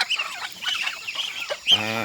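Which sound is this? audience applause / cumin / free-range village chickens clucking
free-range village chickens clucking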